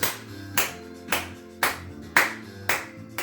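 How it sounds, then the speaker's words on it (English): Clapping at the end of a guided tapping exercise in a psychology session: seven sharp, evenly spaced claps close by, at about two per second, with nothing else heard between them. "Give yourself some applause."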